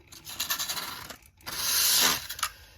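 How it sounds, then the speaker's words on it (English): A Cutsall Extreme rotary tool with a bit grinding into a cheap plastic lightsaber wall to thin it, rough scraping passes that pause briefly, then a sustained harsher buzzing grind, close up. "putting the bit in, and just sort of thinning out that wall"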